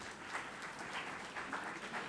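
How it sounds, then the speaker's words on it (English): Faint, distant audience applause at a moot court competition's valedictory session, a steady wash of clapping with no voices over it. "A big round of applause, please, for each of the participants."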